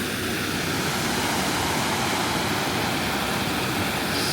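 Creek water rushing at O'Brien's Creek in the Queensland outback, a loud continuous broadband wash of flowing water with no breaks and no voices.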